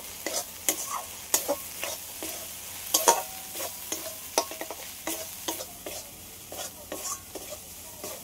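Spice paste with a splash of spice-rinse water is stir-fried in a pan for an egg and soybean dish. A constant sizzle runs under frequent clattering stirs and scrapes in an uneven, busy rhythm.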